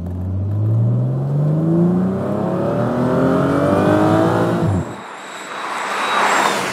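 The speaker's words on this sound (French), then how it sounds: "au volant de cette Morgane Plus 6, comme d'habitude, je vous fais profiter du son du moteur" A Morgan Plus 6 sports car engine pulls hard while driving, rising steadily in pitch through the gears with a muffled, smooth tone, then drops sharply before building again, loud and close.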